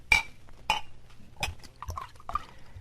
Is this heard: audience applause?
no